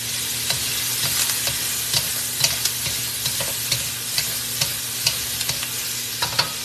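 Cajun pork and vegetables sizzle steadily in an oiled skillet, with a spatula scraping and stirring in regular clicks throughout. No one speaks.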